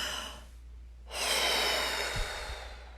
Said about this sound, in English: And breathe. Big breath, big breath.